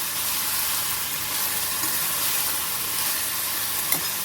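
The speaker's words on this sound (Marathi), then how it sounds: "आणि छान मिक्स करून घेऊया" Raw banana curry being stirred in a pan, a steady sizzling, scraping wash close up with no pauses and a faint tick near the end.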